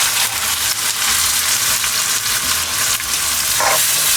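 Minced meat fries in hot oil with garlic ginger paste, a dense, constant close sizzle with crackles and occasional stirring scrapes.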